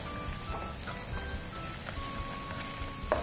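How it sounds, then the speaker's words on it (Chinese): Onions fry in a hot wok with a steady, moderately quiet sizzle. Faint scrapes and clinks of stirring come and go, and one sharper knock sounds near the end. "先咧我哋就炒香咗啲洋葱先"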